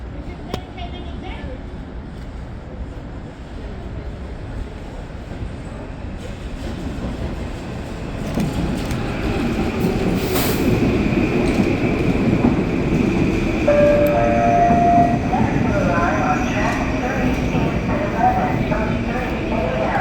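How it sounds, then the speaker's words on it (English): A Metro-North train bound for Grand Central rumbles into the station, its broad low roar slowly building and staying loud, with a few brief tonal squeals and chimes partway through. "The next train would be the Metro North 1103 train to Grand Central."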